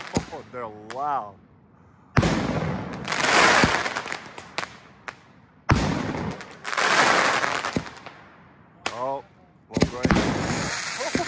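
Loud HITTERS fireworks launch and explode outdoors in repeated heavy blasts with crackling tails, separated by short pauses where people talk and cheer.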